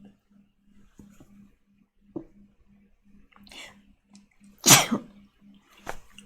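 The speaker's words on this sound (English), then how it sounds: "I sneeze a lot" A single sharp, close sneeze bursts out midway through, followed by a smaller breathy sound, over a faint background hum with scattered soft clicks and murmurs.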